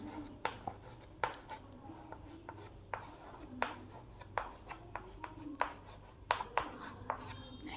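Pen or marker strokes on a board or paper while a math expression is written out, giving a series of short, crisp scratches and taps at an uneven pace, fairly close and quiet over a low steady background.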